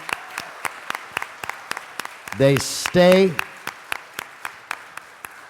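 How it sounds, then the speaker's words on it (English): A committee meeting audience gives staff a round of applause: sparse, near handclaps that keep a steady rhythm through the whole clip, with a voice speaking briefly partway through. "give them a round of applause"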